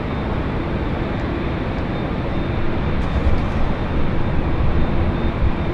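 A heavy Boeing 777-300ER jet taxis toward takeoff at LAX, a steady, broad engine roar that holds at an even level throughout, with no talk over it.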